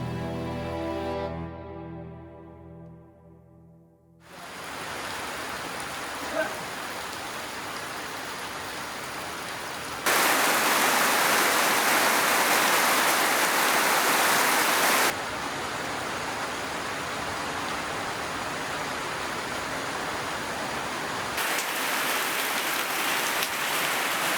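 Steady rain falls at a village in Bali, a dense continuous hiss of drops on surfaces that swells louder in stretches and fills the scene with no talk.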